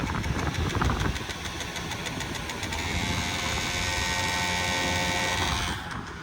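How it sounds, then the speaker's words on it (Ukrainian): A Honda Topic 49cc two-stroke scooter engine idles close by with a steady buzzing rattle, its pitch shifting slightly midway before settling. "Чуєте, як двигунчик працює гарно?"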